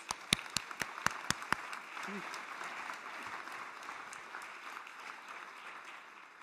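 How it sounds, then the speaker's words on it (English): Audience applause for an award recipient at an evening summit dinner on stage, opening with a few sharp, close claps and settling into a steady wash of clapping from a room-sized crowd. "Let's give her a round of applause"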